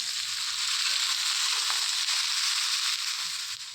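Eggplant and flat beans hit hot oil in a pan with potatoes, tomatoes, green chilli and five-spice, giving a loud, steady, close sizzle that crackles continuously throughout.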